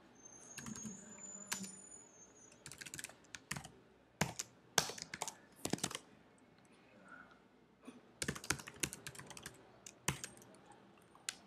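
Keys on a computer keyboard clack in irregular bursts as code is typed, with short pauses between runs of quick, crisp clicks, close and fairly quiet.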